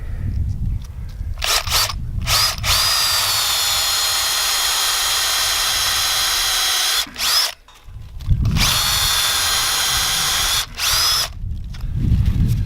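A power drill whines steadily as it bores two inches into a living maple tree for tapping, running in long loud stretches with a few brief pauses between bursts.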